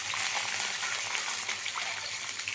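A glass of water poured into a pan of softened onions and mustard seeds while making semiya upma gives a steady, close gushing wash that lasts about two and a half seconds and ends abruptly.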